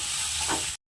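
Sliced onions with half a teaspoon of salt sautéing in a pan for chicken curry, a loud, dense, close sizzle that holds steady for under a second before cutting off abruptly.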